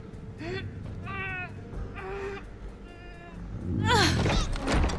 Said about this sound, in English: Listen to those mighty lungs of his as he meows and cries.